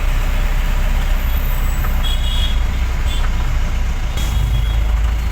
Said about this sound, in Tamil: பாலத்துலேயும் டிராஃபிக்கு கீழேயும் டிராஃபிக்கு